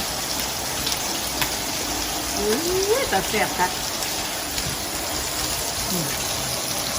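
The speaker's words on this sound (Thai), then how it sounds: "มันฝนตกแล้ว" Rain pours down in a continuous, even hiss of drops, with a person speaking briefly in the middle over the steady downpour.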